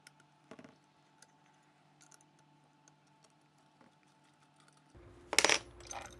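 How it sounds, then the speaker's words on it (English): A T30 Torx key working the takedown screws out of a CZ rimfire rifle: faint, sparse metallic ticks and clicks, then a sudden bright metal clatter close up near the end. "we'll just take our T30 Torx key here and we'll go ahead and remove these two takedown screws."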